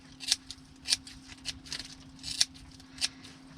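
Scissors snip through a hair fringe over a plastic bag, six or seven crisp, close metallic cuts at uneven intervals over a faint steady hum.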